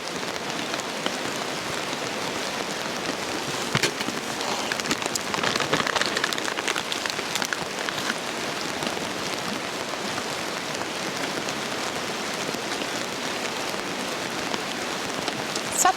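Steady rain pattering on a tent roof at a camp, a dense, even hiss of drops that holds throughout, with occasional slightly louder spatters and no talking.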